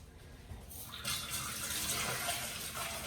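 Tap water runs steadily into a sink as a dish is rinsed out, a close, continuous splashing rush that swells louder after the first second.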